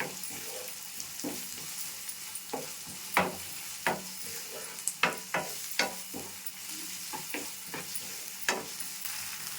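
Ginger garlic paste frying in a pan, a low sizzle broken by a series of sharp irregular scraping and stirring knocks, close and fairly loud.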